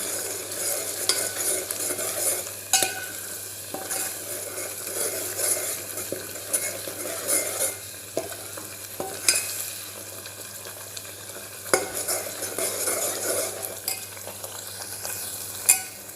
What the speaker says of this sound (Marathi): तेलामध्ये हे वाटण टाकले. आता हे छान तेल सुटेपर्यंत परतून घ्यायचं व्यवस्थित.